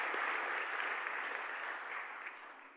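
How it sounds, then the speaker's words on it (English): A church congregation applauds together in a steady, even wash of clapping that holds at moderate level throughout and tapers slightly near the end, with no talk over it. "Yes, let's clap."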